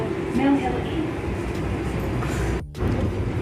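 A deep-level London Underground Northern line train rumbles steadily inside a tunnel, a loud, dense roar with faint squealing tones on top and a brief dip in the noise near the end; a voice speaks over it.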